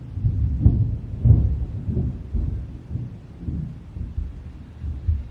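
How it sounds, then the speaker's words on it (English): Low, rolling thunder rumbles in a series of swelling booms, distant and heavy, with no talking over it. "Did you hear that? That was thunder."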